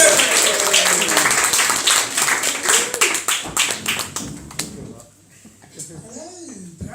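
A comedy-club crowd in Perranporth welcomes a stand-up comedian with loud applause, whooping and cheering that fade after about five seconds. Then a voice starts talking.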